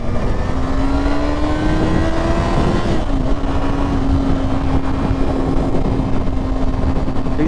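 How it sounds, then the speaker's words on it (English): A car on a driving test is floored at full throttle, its engine note loud and steady, climbing in pitch before a brief dip as the gear changes, then holding on under hard acceleration. "He's told me to floor it, therefore I'm going to floor it"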